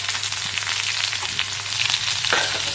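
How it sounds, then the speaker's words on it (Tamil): Sliced ivy gourd sizzles in hot oil with mustard seeds and curry leaves, a steady close crackle and hiss with small pops and a faint stir near the end, no voices. "வாணலியில் எண்ணெய் வச்சு கடுகு கருவேப்பிலை போட்டு கோவக்காயை கட் பண்ண கோவக்காயை அதில் போட்டுக்கோங்க."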